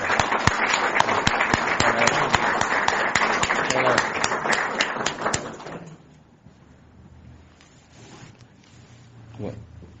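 An audience applauds a speaker at a lecture honoring Julio R. Otaño: dense, loud clapping for about six seconds that stops abruptly, leaving quiet room tone with faint shuffling.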